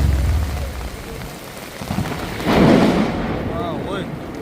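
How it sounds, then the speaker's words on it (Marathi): Heavy rain pours steadily in Mapusa, Goa during a Narkasur festival night, with a deep rumble of thunder swelling near the middle and a faint voice in the background. "बरोच पावस पडटा, जगले आता,"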